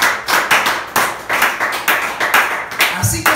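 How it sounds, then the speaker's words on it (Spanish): A church congregation claps in a steady rhythmic beat, sharp repeated hand claps filling the room, with a voice heard briefly. "Vamos a aplaudirlo si lo vas a aplaudir."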